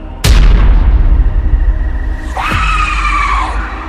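A horror-story sound effect opens with a sudden loud boom, then a shrill rising-and-falling scream cuts in near the end, loud and close over a dark rumbling background.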